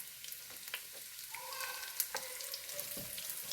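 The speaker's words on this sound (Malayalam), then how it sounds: "ഇനി അതിലേക്ക് ക്യാരറ്റ് ഇട്ട് കൊടുക്കുകയാണ്." Carrots sizzle and crackle in hot vegetable oil already used for frying chicken, cooking for chicken fried rice, with a steady frying hiss and occasional stirring clicks, close and with no talk.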